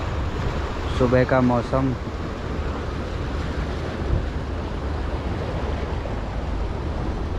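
Sea waves roll onto Anjuna Beach in Goa, a steady, broad wash of surf mixed with wind buffeting the microphone. Someone speaks briefly near the start, and the surf continues unbroken throughout.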